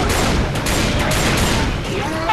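Rapid M60 machine gun bursts in Left 4 Dead 2, loud sharp cracks firing in quick succession throughout, with shouting voices mixed into the gunfire.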